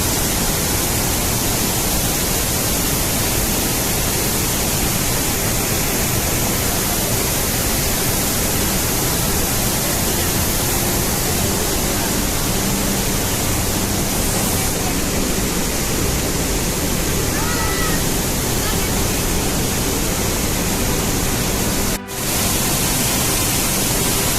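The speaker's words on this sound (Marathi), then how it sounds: "इकडनं बघा पाणी किती प्रवाह चालू आहे पाण्याचा" Randha waterfall in heavy monsoon flow roars as a loud, dense, unbroken rush of water that fills the whole clip.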